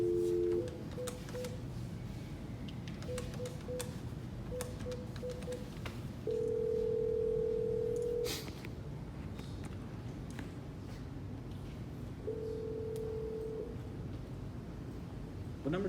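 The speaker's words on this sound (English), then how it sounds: "What number did you dial?" A telephone keypad plays a run of short dialing beeps followed by longer held tones. They are faint against a noisy background hum, with a few scattered thumps.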